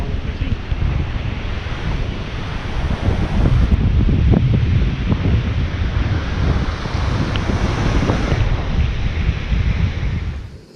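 Ocean surf rolls in at Mission Beach under heavy gusting wind buffeting the microphone, producing a loud, continuous roar that fades out at the very end.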